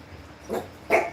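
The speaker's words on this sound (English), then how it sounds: "What are you barking for, dog?" A dog gives two short barks, the second sharper and louder, at moderate distance against a quiet indoor background.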